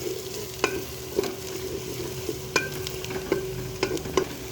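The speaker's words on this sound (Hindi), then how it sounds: "तो इसमें हम ऐड करेंगे 1 चम्मच अदरक लहसुन का पेस्ट" Ginger garlic paste sizzling in hot oil while a utensil stirs, with several sharp clinks and scrapes scattered through the steady frying hiss.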